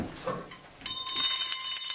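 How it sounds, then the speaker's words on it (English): A bell rings suddenly with a bright, sustained metallic tone that lingers and shimmers to the end, following a quieter opening of soft clatter and handling noise. "Why don't you ring a bell?"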